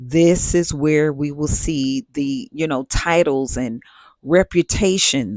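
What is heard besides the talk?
None of the usual background noises is heard.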